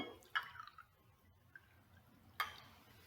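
Liquid drips through a paper filter held in a glass funnel into an Erlenmeyer flask during a laboratory filtration, giving a few faint, sparse drips spaced unevenly in a quiet room.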